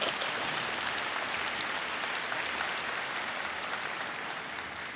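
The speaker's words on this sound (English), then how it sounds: "Please give him an applause." Audience applause fills a convocation hall for an engineering faculty ceremony, a steady dense wash of many hands clapping that holds at even strength throughout and tapers slightly at the end.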